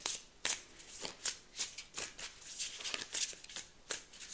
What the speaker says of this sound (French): prends encore 2 cartes